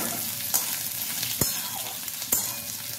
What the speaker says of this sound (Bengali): আলু পেঁয়াজটা ভালো করে একটু ভেজে নিচ্ছি